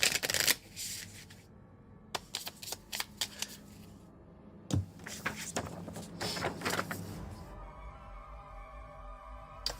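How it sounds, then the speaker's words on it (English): Cards from an encounter deck in the board game Alien: Fate of the Nostromo are riffle shuffled repeatedly, producing several close, fluttering rips separated by brief taps and bridging swooshes. "Maybe I'll give it one more riffle."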